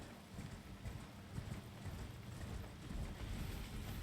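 Horse hooves galloping in Elden Ring, a steady rapid low thudding run that stays fairly loud and close throughout, with no voices.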